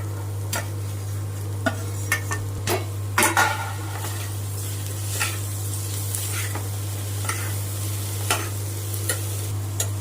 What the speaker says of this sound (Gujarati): એને ઘીમાં વઘાવું એકદમ સાતળાઈ જાય એટલે નાખી દઈએ આપણે કાંદો અને કેપ્સિકમ